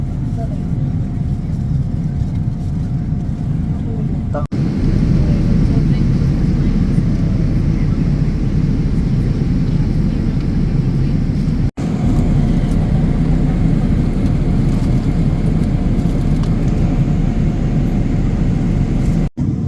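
Steady, loud low-frequency roar of an airplane cabin in flight, a continuous engine and airflow drone with brief interruptions, while a person speaks in the foreground.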